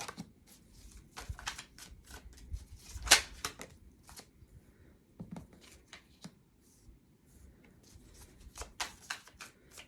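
Oracle cards being shuffled by hand: soft, quick riffling and flicking bursts come close and fairly quiet, in irregular clusters with short pauses between.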